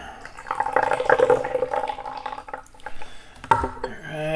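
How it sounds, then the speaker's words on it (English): Water is poured into a vessel while tea is being prepared with a ripe pu-erh tea cake, a close splashing pour followed by a clink of teaware. "All right, let's get some water in here."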